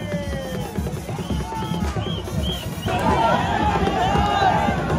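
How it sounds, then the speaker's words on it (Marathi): Huge festive crowd at a village procession for the deity Bahiri Dev in Diwale, a dense roar of voices and shouting close by, with a shrill whistle-like tone rising above the babble partway through. "गर्दी बघा किती झालेली आहे"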